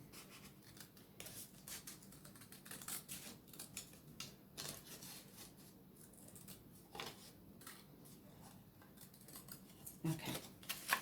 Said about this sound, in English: I'm just going to trim that just a little bit